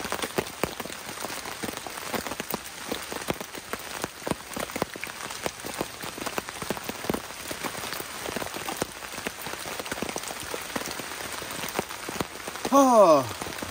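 Steady rain patters on a camping tarp in the woods, a dense continuous drumming of drops that stays even throughout, with a brief louder rattle near the end.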